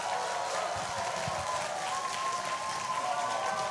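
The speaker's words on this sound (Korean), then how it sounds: "이상원 씨를 따뜻한 박수로 맞으시기 바랍니다" Sustained applause from an audience, a dense wash of clapping that stays steady and fairly loud throughout.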